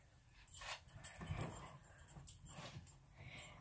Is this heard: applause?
no